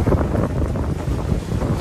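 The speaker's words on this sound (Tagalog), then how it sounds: "Grabe mga guys, sobrang lakas ng hangin." Strong wind from Typhoon Uwan in Hagonoy roars and buffets the microphone in a continuous, heavy rush of noise with no voices.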